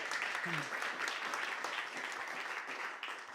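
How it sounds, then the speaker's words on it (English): A crowd gives a big round of applause at a music show, dense continuous clapping from many hands that stays steady and fairly close, with a brief voice near the start. "So massive round of applause."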